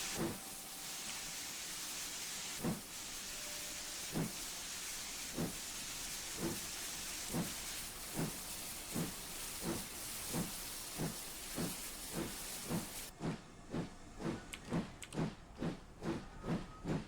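A steam train in a train-driving video game chuffs past with steady, evenly spaced exhaust beats over a constant hiss of steam, the rhythm quickening and sharpening near the end.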